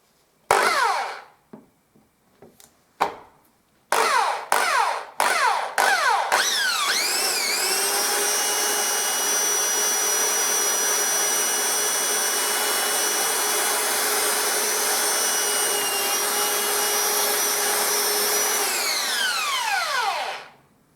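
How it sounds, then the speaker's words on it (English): Power drill boring a hole into woodwork: several short stuttering bursts of the motor, then a long steady high whine under load for about twelve seconds before spinning down, loud and close, no talk. "I think I'm just going to drill a hole into here."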